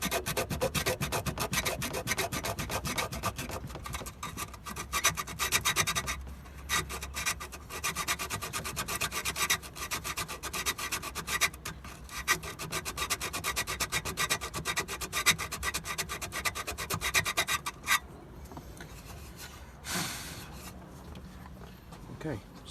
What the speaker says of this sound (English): but I'm gonna sand it anyways.